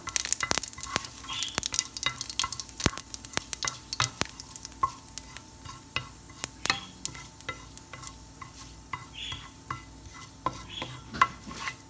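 Cumin seeds frying in a pan for an egg-tomato curry, with repeated sharp clicks and scrapes of stirring over a steady low sizzle, close and alone without talk.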